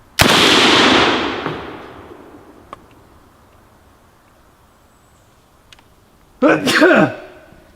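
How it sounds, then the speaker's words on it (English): A sharp, loud AK rifle shot rings out and fades into echo, then after a quiet pause a loud, close sneeze bursts out. "I had to sneeze really bad."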